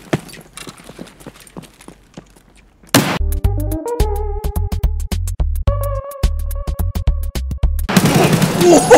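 Rapid bursts of Escape From Tarkov gunfire crack in quick volleys, loud and close, with electronic tones underneath and a burst of noise at the end.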